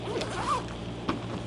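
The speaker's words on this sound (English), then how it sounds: "And then it zips up real well." A zipper closes on a small soft fishing lure box for Susquehanna River smallmouth bass. Two or three short zipping strokes come up close and faint against a low steady background hum.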